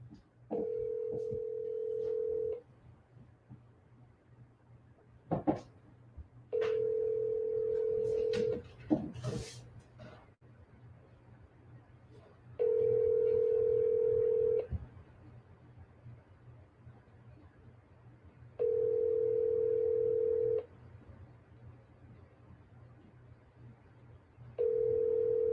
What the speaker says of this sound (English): Answer the phone, Tori.